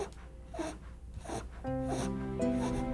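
Quick, heavy panting breaths from a dog in labor close by, with a steady tonal hum rising in the background partway through.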